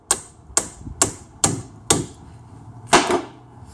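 A mallet strikes a brass drift to seat an outer CV joint on a drive shaft: five sharp, evenly spaced metallic knocks, then a pause and a final heavier double blow, close and loud.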